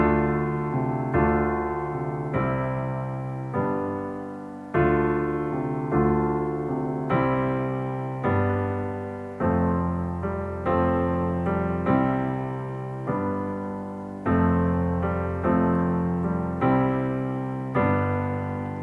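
A piano plays the introduction to a song: repeated broken-chord patterns in a steady, flowing rhythm, each phrase struck and left to decay, clear and close throughout with no voices.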